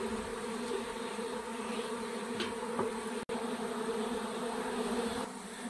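A honeybee swarm shaken from an apple branch at an apiary and walking up a ramp into a hive gives a steady, dense buzz of many bees, continuous and moderately close, with no voices.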